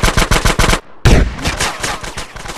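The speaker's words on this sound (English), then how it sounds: "that was a sniper bullet" Sniper rifle shots crack in GTA: San Andreas, a rapid series of loud, sharp reports, a brief gap, then a heavy booming blast followed by more close gunfire.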